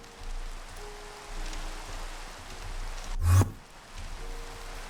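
Steady soft rain falls in a modded Minecraft world, a quiet continuous hiss with one brief louder thump partway through, and no talking over it.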